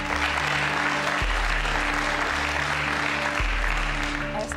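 Steady applause from a studio audience runs throughout, a dense, even clapping over a low, repeating musical hum.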